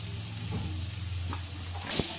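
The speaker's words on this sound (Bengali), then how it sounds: "মশলাটা এবার আমি ভালোভাবে কষিয়ে নেব।" Ground cumin, coriander and turmeric fry in a pan for a jackfruit and prawn curry, giving a steady, close sizzle with a low hum beneath and a few soft stirring scrapes, ending in a brief brighter crackle.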